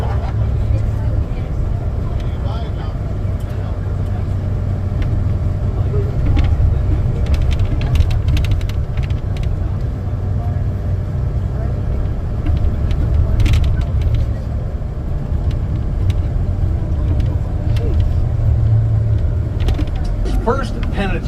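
A tour bus drives through Kingston, Canada, its engine drone and road rumble running steadily throughout under a guide's continuous talk.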